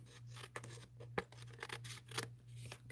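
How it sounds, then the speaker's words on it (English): Scissors snip through paper or cardstock during a stamping craft session, with several quick, crisp cuts and rustling over a low steady hum. "let's snip this off"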